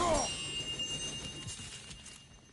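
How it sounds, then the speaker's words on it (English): Chimes ring in the God of War video game: a bright, clear metallic tone opens the clip, then its shimmering ring fades slowly over a soft background of game ambience. "Good to see the chimes working as intended."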